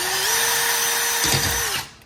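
A power drill whines steadily while drilling a glove box being built for a golf cart. The motor rises slightly in pitch early on, runs about a second and a half up close, then winds down.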